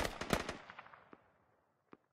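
Gunfire in an Operation First Light video game match: a rapid burst of sharp shots fading into echoing reports, then a couple of isolated distant-sounding pops.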